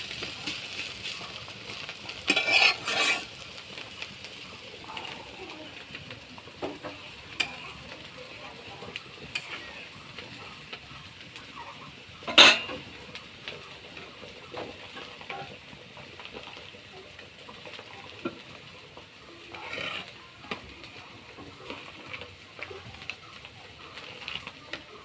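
Spiny gourd (kakrol) frying in a pan, a steady low sizzle broken by a few louder scrapes and stirs of a utensil against the pan.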